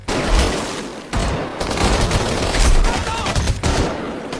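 Rapid gunfire from a shootout between special forces and cartel gunmen in a Mexican action film, with dense overlapping bursts and booms that stay loud and continuous throughout.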